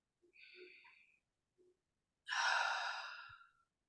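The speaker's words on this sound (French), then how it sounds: "Vous inspirez par le nez, vous expirez par la bouche." A single long, breathy exhale through the mouth during a guided relaxation exercise, heard close and soft after a few faint, brief breath noises.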